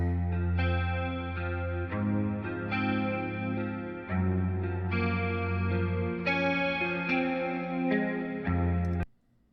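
Processed electric guitar bathed in a big, lush stereo reverb rings out in slow, overlapping chords, each strike washing into a long shimmering tail until the sound cuts off abruptly.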